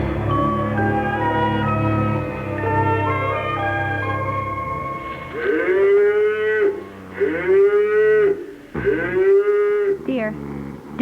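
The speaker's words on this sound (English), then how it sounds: "The cows are mooing" Several long, drawn-out cow moos come one after another, loud and close, following a stretch of music, set in a farmhouse scene at four in the morning.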